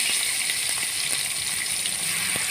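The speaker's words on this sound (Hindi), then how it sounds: "और फिर आपने इसमें टमाटर शामिल कर दें।" Hot oil with whole red chilies sizzles and crackles steadily as tomatoes go into the pan, with a bright, continuous frying hiss and a few soft stirring knocks.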